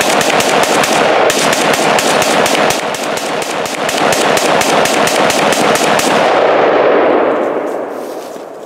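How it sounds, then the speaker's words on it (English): Rapid bursts of AK rifle fire pour into a stack of laptops, a dense, loud stream of sharp reports with metallic clangs that continues for several seconds before trailing off. "We've got 29 shots left in this AK."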